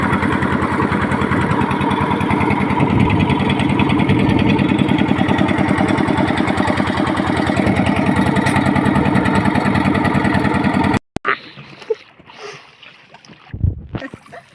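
A large fishing boat's engine chugs on the Bay of Bengal, loud, close and rhythmic for most of the stretch, then cuts off, leaving scattered voices and handling noises.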